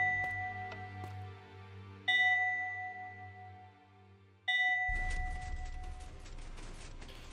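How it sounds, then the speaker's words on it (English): Three ringing chimes in Minecraft sound one after another at roughly two-second intervals as a button opens a door, each bright tone slowly fading, and the last one is followed by a broader rumbling wash. "So after the 3 chimes, the door opens and we can head on through."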